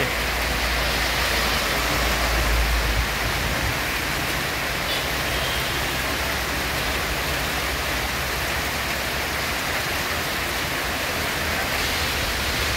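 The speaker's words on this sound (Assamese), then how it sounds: "বহুত ডাঙৰ বৰষুণ দিছে" Torrential rain pours steadily, a loud, continuous wash of falling water with a brief low rumble early on and no voices.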